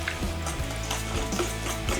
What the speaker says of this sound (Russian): Просеяли немного муки и начинаем вымешивать просто вилкой